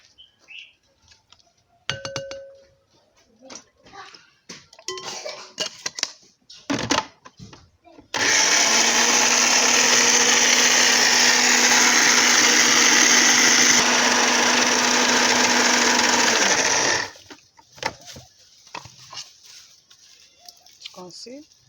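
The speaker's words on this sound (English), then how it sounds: "This is my blender." Scattered clinks and handling noises give way to a loud, steady blender whirring for about nine seconds, then it cuts off and the small sounds resume.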